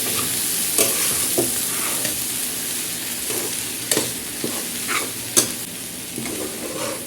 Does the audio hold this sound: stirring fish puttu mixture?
yes